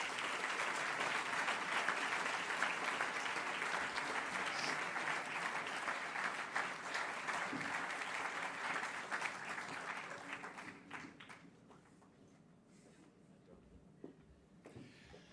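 Sustained audience applause at an event honouring Christian Nielsen, dense clapping for about ten seconds before thinning out to scattered claps and quiet room noise.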